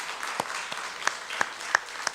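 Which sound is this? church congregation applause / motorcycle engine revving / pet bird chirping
church congregation applause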